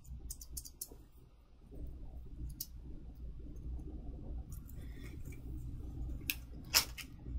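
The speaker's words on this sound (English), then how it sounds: "She gave me this thread snipper. So it's a ginger. And it's just some snips." Small ginger-shaped thread snippers snipping embroidery floss, several sharp little clicks close by over a quiet room hum, with a cluster near the end.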